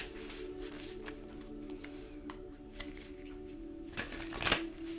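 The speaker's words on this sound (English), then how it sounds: "So I will shuffle this deck a few times and we'll try to see who's here." A deck of reading cards is shuffled repeatedly, giving soft, quiet riffling and flicking with a few louder taps toward the end, with no talking.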